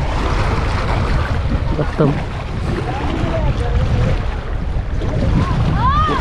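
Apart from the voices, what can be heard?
heavy wind during motorcycle ride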